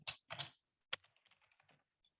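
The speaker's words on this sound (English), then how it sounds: "I'm going to type orange" Quick keystrokes on a computer keyboard, a few louder clacks followed by lighter, scattered taps, close and quiet with nothing else heard.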